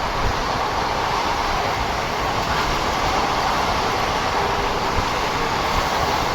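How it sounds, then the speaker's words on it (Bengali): From inside a moving passenger train, a constant rumbling roar of wheels and carriage fills the whole stretch, steady and loud with no breaks, voices or horn. "এখন আমাদের ট্রেন যাচ্ছে পরবর্তী স্টেশনের দিকে"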